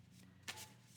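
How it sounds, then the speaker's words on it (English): A single quick riffle of a deck of tarot cards during a card reading, a soft close papery burst in a quiet room with a faint background hum. "I'm just going to shuffle again"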